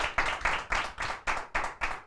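At a student debate programme, hands clap in a steady, even rhythm of about four beats per second, close and moderately loud, more like a group keeping time than loose, scattered applause.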